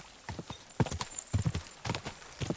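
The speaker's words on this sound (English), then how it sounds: "Might be better to just let the horse decide where to go." Horse hooves clip-clopping in the video game Kingdom Come Deliverance 2, a quick uneven rhythm of close, clear hoofbeats on hard ground with a soft snort mixed in.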